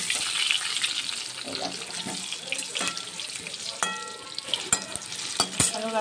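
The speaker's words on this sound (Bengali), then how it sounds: "চিকেনটা কুকার যেমন আলুগুলো ভালো করে ভেজে নিচ্ছি।" Potatoes fry in a pan for chicken kosha, a soft crackling sizzle broken by sharp clinks and scrapes of a spoon stirring against the pan.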